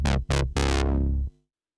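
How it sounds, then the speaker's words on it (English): Synth playing a droning note, broken into three gated pulses: two short ones, then a longer sustained tone that stops abruptly, with a rich, buzzy timbre. "one continuous droning note like you just heard"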